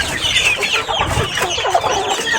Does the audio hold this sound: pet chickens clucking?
yes